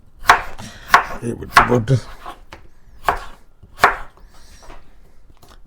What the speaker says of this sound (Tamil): சின்ன சின்னனா வெட்டப்படும் உருளைக்கிழங்கு